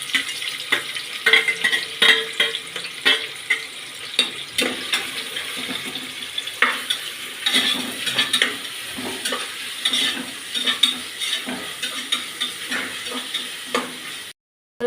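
Chopped onions sautéed in a pan for egg biryani, steady frying sizzle with repeated spatula scrapes and knocks against the pan, close up, cutting off abruptly at the end.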